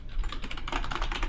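Short burst of fast typing on a computer keyboard while a password is entered during a Zorin OS 15 Linux install, with quick, close, evenly spaced key taps and no talk.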